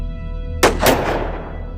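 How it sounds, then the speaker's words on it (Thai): Two sharp gunshots in quick succession, loud and close, the second following a fraction of a second after the first, with a long fading echo over a steady hum. "มีเสียงปืนดังขึ้นไล่เลี่ยกันสองนัดจากด้านล่าง"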